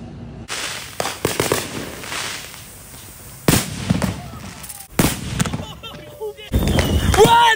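Homemade M1000 firecracker explosions outdoors: several sharp, loud bangs spaced a second or two apart, some trailing crackles and whistling sounds, with people talking and shouting between blasts.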